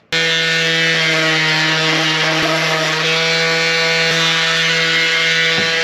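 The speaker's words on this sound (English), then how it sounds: "After sanding with a little bit heavier grit sandpaper" A power sander with heavier-grit sandpaper drones loudly and steadily on a custom boat bow plate, with a constant motor whine for the whole stretch, with no talking.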